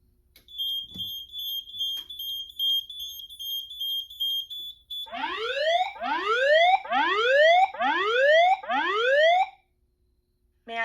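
A Notifier DVC fire alarm panel sounds a weather alert tone: a steady high electronic pitch for about five seconds, then a run of rising whooping sweeps repeated several times, loud and close, ending abruptly.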